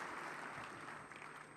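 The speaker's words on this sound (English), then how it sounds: "A better round of applause, please, as she comes up." Steady applause fills the hall at a leaders' summit opening ceremony, a dense, even wash of many hands clapping with no pauses, moderately loud throughout.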